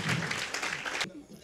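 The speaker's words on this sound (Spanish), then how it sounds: "Denle un aplauso fuerte a Jesús." A church congregation bursts into strong applause for about a second, dense and fairly loud, then cuts off abruptly, with a voice talking faintly afterward.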